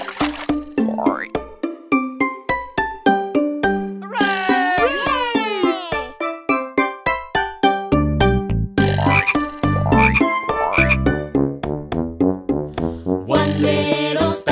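Cartoon frogs in a nursery rhyme about speckled frogs on a log croak in a rapid rhythmic chorus of boingy, twangy calls, loud and up close, mixed with bright musical accompaniment.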